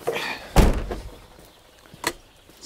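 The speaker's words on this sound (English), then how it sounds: "let's close the trunk, maybe." The trunk of a car is shut with a solid, heavy thunk, preceded by a softer rustle and followed by a second, lighter knock.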